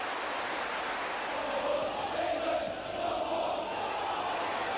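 A festive football stadium crowd at a 1989/90 Derby County match against Liverpool keeps up a steady, dense roar throughout, rising and dipping slightly with no clear single voices standing out.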